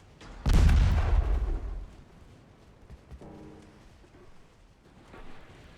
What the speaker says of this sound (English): Taking some intercepting fire here.